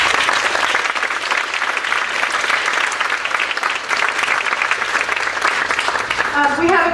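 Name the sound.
audience applause at a county fair concert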